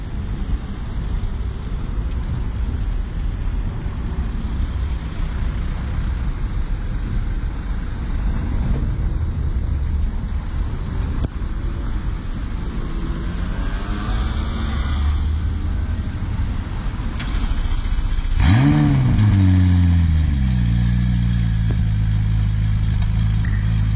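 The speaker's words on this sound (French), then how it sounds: "On entend bien la redescente des turbos." A McLaren 570S sports car's turbocharged engine runs steadily, a loud, close rumble over a long stretch that swells near the end with a sharp blip and a falling, sighing whoosh as the turbos spool down.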